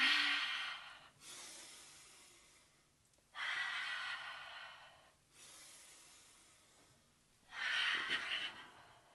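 Slow, deep breaths during a yoga exercise: three long airy exhales or inhales, each swelling and fading over a couple of seconds, close and fairly soft, with quiet pauses between and no talking.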